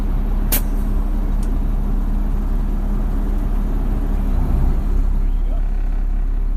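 Mack LR refuse truck setting off around the block, its diesel engine rumbling steadily and loudly up close, with a sharp hiss of air brakes near the start.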